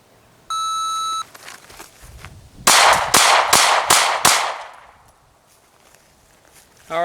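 At a shooting range a shot timer emits one long electronic beep, followed after a pause by five loud, sharp handgun shots in quick succession fired at 5 yards, with a second beep starting at the end.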